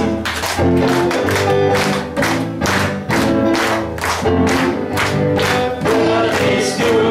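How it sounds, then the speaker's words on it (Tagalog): A church congregation claps along to a worship song, the claps falling steadily on the beat under loud live music. "Let's clap our hands."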